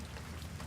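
Steady rain falls in an even, dense hiss that fills the short stretch with no pauses or voices, soft and uniform like a continuous downpour.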